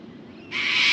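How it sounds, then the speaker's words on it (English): Bird calling outside a hotel room in an Australian town, a single close, loud, sustained hooting or whistling note lasting about half a second. "listen to the sound of the birds"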